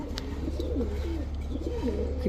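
A Moynajak pigeon coos in a series of soft, rolling low calls, close by over a steady background hum, with no voices.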